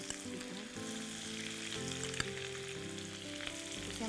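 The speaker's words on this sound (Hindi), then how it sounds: "अब जो है हम प्याज डालेंगे" Chopped onions hit a pan of oil with browned cumin and settle into a steady, moderately quiet sizzle that continues evenly throughout, with no talking.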